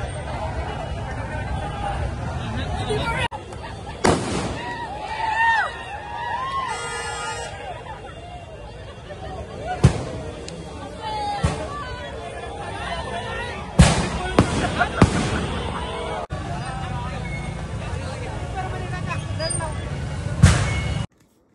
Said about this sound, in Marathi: कोण कुठं पण फटाके टाकतोय आणि ते पण सुतुळे बॉम्ब